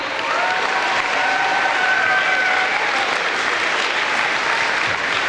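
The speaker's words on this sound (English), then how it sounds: "let's give them a big round of applause" Loud, dense applause from a school audience at a Special Olympics pep rally, steady and sustained throughout, with a few whistles and cheers rising over the clapping.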